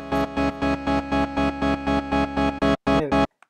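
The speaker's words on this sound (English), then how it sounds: "Let's say I want to apply a stereo delay on that." Alchemy synth in Logic Pro X playing a repeated chord stab with a dotted-eighth stereo delay, about a dozen even pulses, loud and alone, then a few longer echoing hits before it cuts off.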